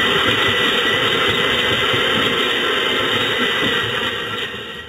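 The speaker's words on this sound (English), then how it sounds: "Close the lid of the container, mount it on the grinder, and let the machine do its work." Kitchen mixer grinder whirring loudly and steadily as it grinds spices with a few tablespoons of mineral water, with a continuous motor drone and a high whine that ease off slightly at the end.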